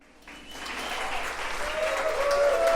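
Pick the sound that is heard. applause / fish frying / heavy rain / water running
applause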